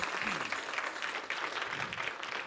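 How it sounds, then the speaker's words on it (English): An audience applauds Jace after a drum and dance demonstration, a short burst of steady clapping with some voices mixed in. "Give Jace a round of applause"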